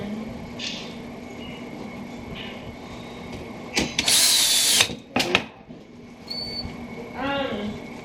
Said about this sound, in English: screw them down through the pre-drilled I don't know, holes.